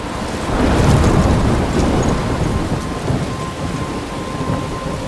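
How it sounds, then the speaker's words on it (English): Heavy rain pours steadily through a thunderstorm in the Life Is Strange video game, with low rumbling thunder rolling underneath, loud and continuous, with no voices. "I'm trapped in a storm?"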